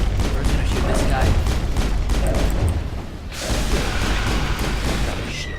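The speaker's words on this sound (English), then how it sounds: "We're gonna shoot this guy." Rapid gunfire from the Mass Effect video game, loud and dense, with sustained automatic bursts and booming shots filling the whole stretch, briefly easing near the middle before resuming.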